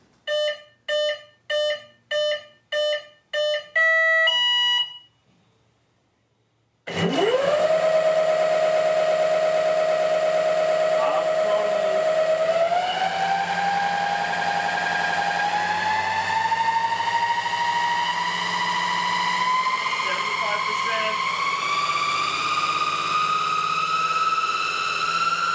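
A series of short, evenly spaced electronic beeps comes first, then after a brief silence a powerful RGB PC fan roars up to full speed, its loud whine rising in two steps and holding steady.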